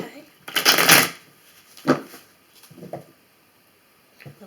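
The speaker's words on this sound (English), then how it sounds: "Shuffle one more time and we'll begin here." Tarot cards being shuffled close up, a loud riffling burst followed by a few shorter flicks and taps at uneven intervals, with no talk over them.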